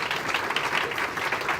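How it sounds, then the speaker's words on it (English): Applause from a forum audience after a guest speaker is thanked, a steady, dense patter of clapping held at an even level for under two seconds. "A round of applause, please."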